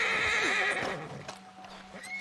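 Horse in the video game Red Dead Redemption II gives a loud whinny over clopping hooves, then the sound settles to quieter ambience.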